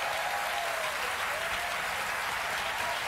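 A television studio audience applauds loudly and continuously, a dense, even wash of clapping hands with no letup and no voices audible.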